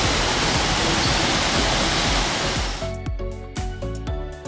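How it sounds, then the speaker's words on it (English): A waterfall in the Smoky Mountains roars as a dense, steady rush of water, close and loud at first, then drops away to a fainter wash beneath a run of plucked musical notes. "Oh, waterfall!"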